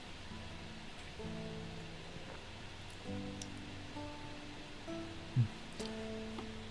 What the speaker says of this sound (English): Getting a little rain here today. It's hitting right now, actually.